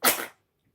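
A single short, sharp sneeze, close and fairly quiet, lasting a fraction of a second and followed by silence.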